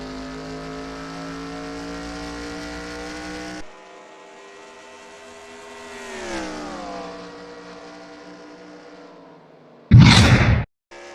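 Race cars in the World Grand Prix in St. Louis drone at a steady engine pitch that dips as gears change, then ease off, ending with a sudden short loud burst of noise.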